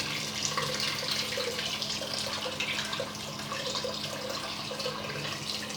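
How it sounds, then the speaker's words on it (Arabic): Water runs from a tap into mchawcha dough in a Kabyle kitchen, a steady close hiss and trickle that continues without a break and without talk. "نزيد لها شويه تاع الماء. هنايا زدت لها الماء."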